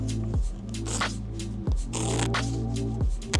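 Scissors snip through appliqué fabric close to satin stitching, giving about three separate crisp cuts, each a short rustling scrape ending in a sharp close snap, loud and near with a low hum underneath and no talking.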